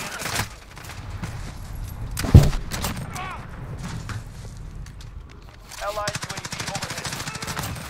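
MP5 submachine gun fire in Call of Duty, rapid automatic bursts crackling in quick rhythm, one near burst early and a longer rattling string near the end, with a sharp thump in between and faint game ambience.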